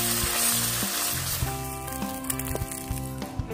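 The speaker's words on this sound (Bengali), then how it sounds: "মাছগুলো ভেজে নেব।" Small mourola fish frying in hot mustard oil, a steady close sizzle with crackling pops throughout and no voices.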